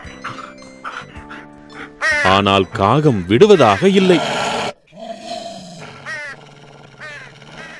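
A cartoon dog growls over a bone in a Tamil kids' animation, with loud rough snarls mixed with crow caws and a narrator's voice around them.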